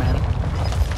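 A mortar blast in the Warzone 2 game: a single heavy, low boom with a rumbling tail, loud and close, filling the short moment.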